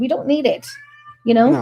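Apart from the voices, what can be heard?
cat meowing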